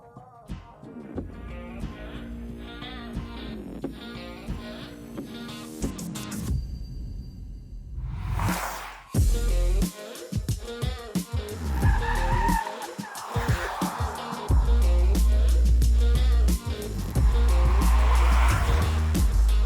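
Lotus Eletre 905-horsepower electric SUV on the move, with tire squeal and skidding, rising whine and road rumble that grow louder and steadier toward the end.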